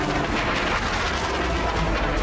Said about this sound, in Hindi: इजराइल के कब्जे वाले फिलिस्तीन के आसमान में ईरानी मिसाइलों की गड़गड़ाहट सुनाई